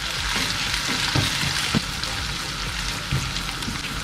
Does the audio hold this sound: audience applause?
no